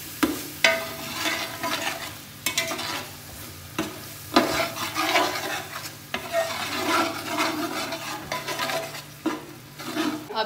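A spoon scraping and stirring chana pulao with fresh green chilies in a sizzling pot, irregular rasping strokes over a continuous frying hiss, close and unhurried.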